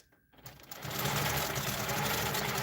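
A sewing machine stitches backwards on a quilt, starting after a brief pause and settling into a fast, steady, continuous rattling whir close by.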